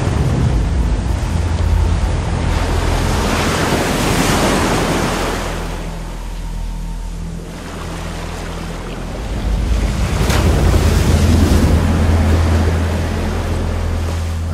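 Ocean surf rolls and crashes in two broad, loud surges with a lull between, a continuous roar of water under gusting wind.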